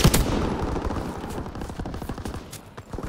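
Rapid bursts of automatic gunfire from a Call of Duty: WWII multiplayer match, dense and continuous, with sharp repeated shots layered over a busy battlefield din for the whole stretch.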